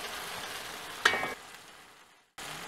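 Curry paste for pachownie fries in a pot with oil separating, a soft steady sizzle broken by one sharp clatter of stirring, then a brief silence before the frying resumes.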